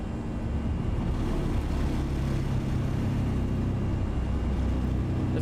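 Airbus A320 taking off from Palma de Mallorca in X-Plane 11, a continuous loud jet engine roar with deep rumble holding steady throughout the climb; no talk.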